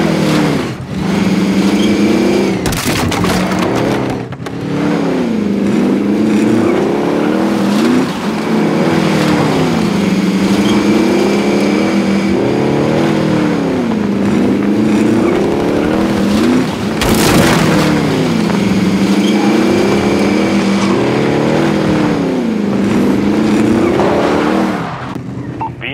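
A car driven in Warzone, its engine droning loudly and steadily throughout with rising and falling revs as it accelerates and shifts, a couple of sharp bangs breaking through partway.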